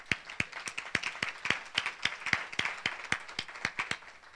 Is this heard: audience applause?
yes